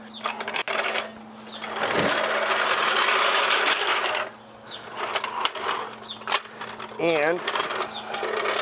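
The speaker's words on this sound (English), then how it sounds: "I think I'm going to jack up by the rear subframe" Car jack being worked under the rear subframe of a Ford C-Max, with bursts of rhythmic mechanical ratcheting and clicking, close by, separated by pauses and brief talk.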